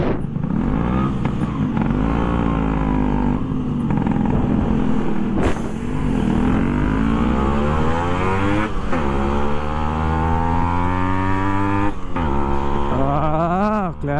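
Loud engine roar of a vehicle cruising at over 120 km/h, in sixth gear with the clutch released, a steady droning note that rises and shifts in pitch, close and continuous, alone without talk.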